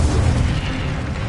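Fire spell cast in the video game Hogwarts Legacy, a loud, dense whooshing burst with a heavy low rumble that carries through the whole moment, no voice over it.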